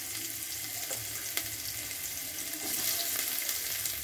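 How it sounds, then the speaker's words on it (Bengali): Chopped onion fries in hot oil with cumin seeds for a paneer tarka, giving a steady broadband sizzle throughout with a few faint clinks, growing slightly louder near the end; no one speaks. "পেঁয়াজটা প্রায় ভাজা হয়ে গেছে"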